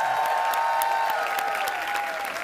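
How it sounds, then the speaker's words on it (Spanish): Applause from a large audience for a magician at a televised talent show final, steady crowd clapping with a sustained tonal music layer under it, continuous and moderately loud. "mira el aplauso que te da la gente"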